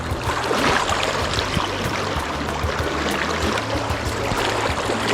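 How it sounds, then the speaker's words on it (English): Water of a big creek rushes and splashes steadily and close by as it is crossed, a dense, continuous flow with no talking. "Crossing this big creek right here."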